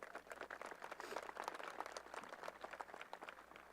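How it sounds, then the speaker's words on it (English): A high school graduation crowd outdoors on an evening applauds with dense, continuous clapping at moderate distance, steady in level from start to finish. "let's have a round of applause for that"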